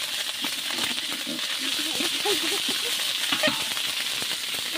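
Ginger frying in oil, with a dense continuous sizzle and crackle close by, along with scattered clinks and faint background voices.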